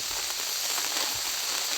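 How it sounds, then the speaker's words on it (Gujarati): Steady, dense hiss of heavy rain pouring down continuously, filling the whole clip with no voices. "ત્રણ દિવસથી લગાતાર વરસાદ ધોધમાર વરસી રહ્યો છે"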